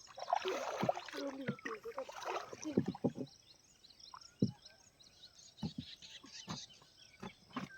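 A small fishing boat being rowed forward, with knocking oar strokes and water splashes at uneven intervals, fairly close but soft, with faint bird calls in the background.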